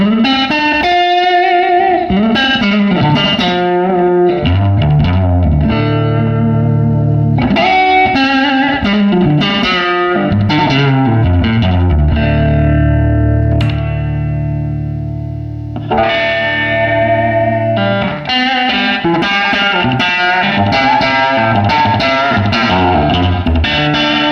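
Electric guitar through a 1953 Magnatone 3-HGA tube amp with a warm, gritty tone plays chords and riffs continuously and loudly, with a brief dip in the middle before picking back up.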